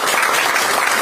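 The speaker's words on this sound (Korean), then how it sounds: "박수 보내주시기 바랍니다" Audience applause at a Democratic Party (Korea) supreme council field meeting and candidate pledge ceremony in Yeonggwang, South Jeonnam; dense, steady clapping fills the short moment, loud and close, with no talk over it.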